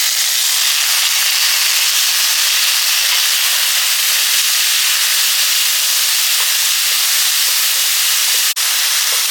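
Three chopped tomatoes go into a pan of frying pepper for a kuzhambu, giving a loud, steady, close sizzle that hisses continuously, broken only by a brief click near the end.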